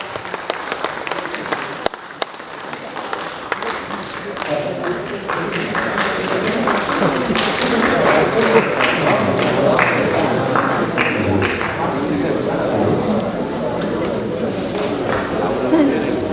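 An audience applauds at an award ceremony honouring achievers and journalists, a steady wash of many hands clapping that swells and holds for several seconds, moderately near, with a voice talking over the start.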